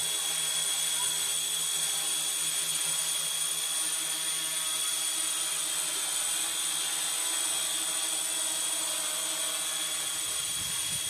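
Steady high-pitched whine of a quadcopter drone hovering, with sharp constant rotor tones holding level throughout, fairly close and continuous.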